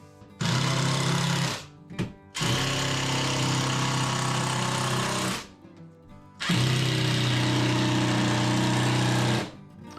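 A power drill drives screws into a wooden workbench add-on in a home shop, three sustained whirring bursts separated by short pauses, close and loud with no talking.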